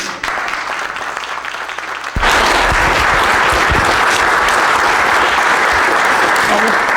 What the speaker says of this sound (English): let's give John a round of applause